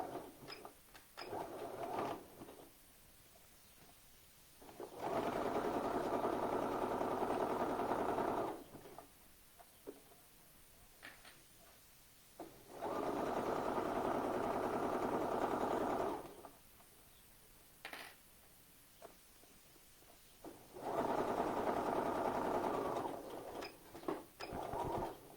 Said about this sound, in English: Just like we've been doing, we want to set this in on a zigzag 5/8 of an inch